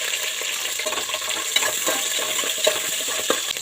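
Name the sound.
shallots and garlic frying in a pan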